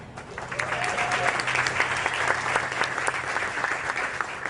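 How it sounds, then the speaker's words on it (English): Sustained applause from an audience at an outdoor press event announcing a federal transit grant for a street project, steady dense clapping filling the whole stretch with faint crowd murmur. "who got a huge round of applause"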